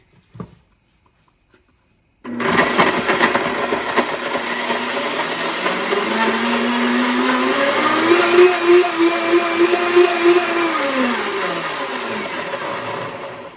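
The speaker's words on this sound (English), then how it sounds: "let it go a little bit longer while I blend this sauce smooth" A kitchen blender whirs loudly after a silent pause, purees taco sauce until smooth, and holds a steady motor roar that rises in pitch midway and then falls as it winds down.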